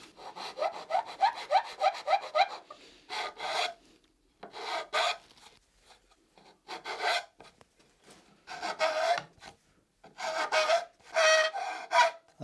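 A hand file rasps across wood while building drawers in the old-school way, coming in repeated bursts of quick strokes separated by short pauses, close and clear with no talking.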